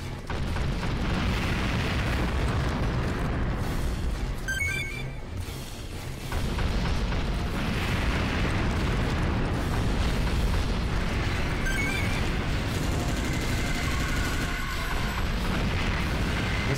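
Rocket missile launcher explosions roar through a battle in the video game Earth Defense Force 2017 on Xbox 360, forming a dense, continuous wall of booms and blasts with a brief dip midway and no talk.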